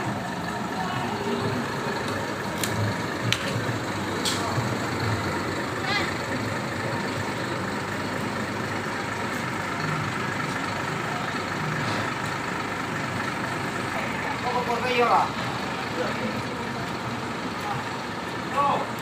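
A new bus arrives at a depot in Padang Pariaman, its engine rumbling steadily with faint air-brake hiss and beeps, while voices talk in the background.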